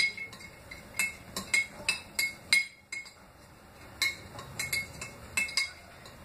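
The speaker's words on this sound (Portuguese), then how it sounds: "Dar uma mexida." A non-iron spoon stirring sugar into water kefir in a glass, quick bright clinks against the glass in irregular bursts, close and clear with no talk.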